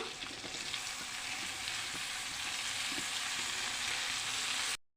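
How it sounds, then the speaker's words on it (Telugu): Tomato pieces sizzling in hot oil with curry leaves in a pan for tomato dal, a dense, even hiss that stays steady throughout and cuts off at the end, with no voices. "ఇప్పుడు టమాటా ముక్కలు ఇందులో వేసుకుందాం"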